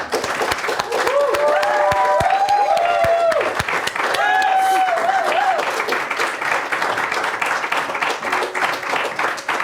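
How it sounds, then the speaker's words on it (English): A studio audience at a comedy show claps and cheers for a guest, with sharp close claps and whooping, rising voices early on, then settling into steady, somewhat thinner applause. "can I have a little round of applause for AI Porn Machine?"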